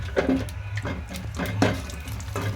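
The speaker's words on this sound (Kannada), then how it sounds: "ಈಗ ಎರಡು ಚಕ್ಲಿ ಹಾಕೊಂಡು ಫ್ರೈ ಮಾಡ್ಕೊಂಬಿಡೋಣ" Two chakli frying in hot oil, a close bubbling sizzle over a low hum, broken by a few brief louder bursts as the oil spatters.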